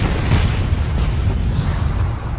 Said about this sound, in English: they see the explosions of multiple bombs detonating on the flight deck